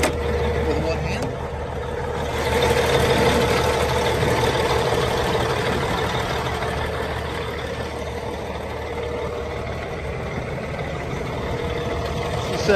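A 2005 International 9200 truck idles steadily at close range, a low continuous engine rumble that holds even throughout, with a person talking over it for much of the time.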